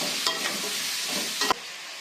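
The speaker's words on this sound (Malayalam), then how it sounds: "ഒരു മീഡിയം സൈസ് വലുപ്പത്തിലുള്ള 3 സവോള, 4 പച്ചമുളക്, എല്ലാം കൂടി ഇട്ടിട്ട് വഴറ്റും." Onions and green chillies frying in a pan for a Kerala chicken curry, a steady close sizzle with a couple of sharp clinks of a spoon stirring against the pan.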